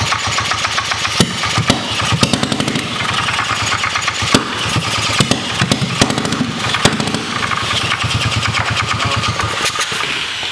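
A Predator 212 small engine running on starter fluid fires in loud, rough, sputtering bursts with an uneven rhythm and sharp pops, running close up with no voices.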